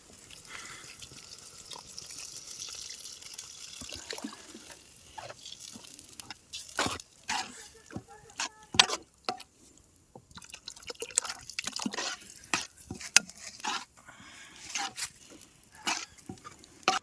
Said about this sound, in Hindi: तो अब इसमें पानी की ज़रूरत भी है, तो पानी भी डाल लेते हैं।